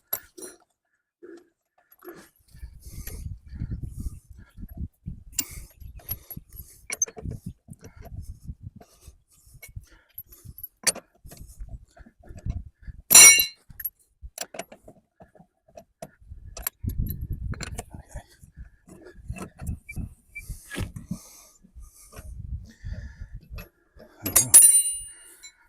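Wheel nuts being undone one by one from a jacked-up car with a flat tyre: irregular metallic clicks, ratcheting and clinks come in bursts. Occasional sharper metal knocks stand out against a quiet background.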